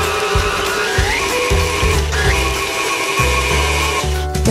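An electric mixer whirs steadily as it beats peanut butter oatmeal chocolate chip cookie dough in a bowl, with eggs going in. The motor drones loud and close, its pitch and load shifting in bursts as the dough thickens.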